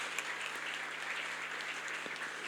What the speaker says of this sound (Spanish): así que denle un fuerte aplauso al Diego, por favor.